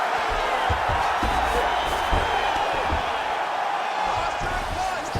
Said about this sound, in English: crowd just loving it